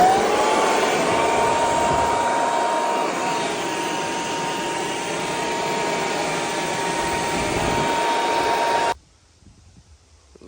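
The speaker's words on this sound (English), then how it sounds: "that blower 10 times better than the broom" A leaf blower clears debris from a freshly saw-cut and graded surface, running as a loud, steady whine for about nine seconds before cutting off sharply into near silence.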